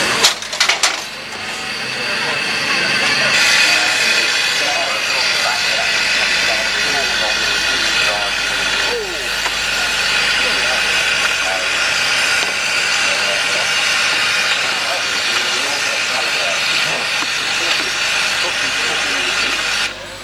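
A heavy haulage steam engine runs at a steam rally, giving a steady, loud broadband hiss of steam with mechanical rumble that continues without a break for the whole stretch, and no voices come through.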